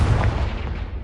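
A Confringo spell blast in Hogwarts Legacy, one loud, booming burst with a heavy low-end rumble that fades over about a second, with no voices.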